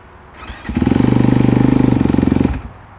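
A Kovi CRS 250 motorcycle engine, newly assembled from the box, cranks and catches, then runs with a loud, rapid, even single-cylinder pulsing for about two seconds before cutting off, close and alone.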